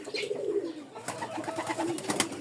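A small bird coos softly and close by in a few short, rounded phrases, with light chirps and rustling around it.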